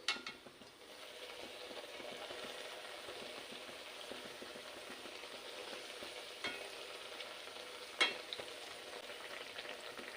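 Bengali palm fruit fritters (tal bora) frying in hot oil, a steady close sizzle and bubbling throughout with a few faint utensil clicks, no talking.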